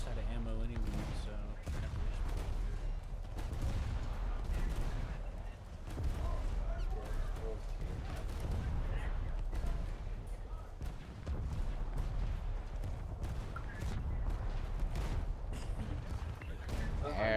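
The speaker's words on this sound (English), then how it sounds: "He's shooting at me this time because I got the kill on him." Video game gunfire crackling in dense bursts of shots and booms through most of the stretch, with players talking over it.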